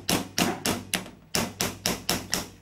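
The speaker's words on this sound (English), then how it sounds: "This hammering produces impact forces on the denture" Controlled hammering on a dental denture flask during temporary RPD denture processing: nine sharp, evenly spaced hammer blows in a steady rhythm, close and distinct with no talking.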